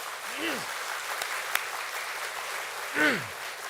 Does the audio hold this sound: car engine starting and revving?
no